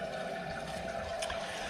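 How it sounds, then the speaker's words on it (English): A newly installed toilet tank fills with water from its fill valve, producing a steady hissing, gurgling flow at close range that runs on evenly without pauses or voices. "So now we're filling up the tank."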